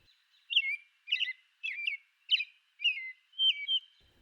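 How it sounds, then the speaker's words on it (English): An American robin sings in a suburban or urban setting, six clear, warbling, whistled phrases delivered in a steady rhythm with short pauses between them, close and distinct against near silence. "Robins singing in urban areas can be particularly bothersome"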